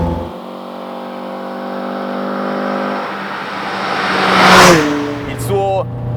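A Fiat 131 Abarth rally car's engine revs up steadily under hard acceleration, a loud, close, rising multi-toned drone that swells to a peak and then drops with a quick gear change, with someone talking over it.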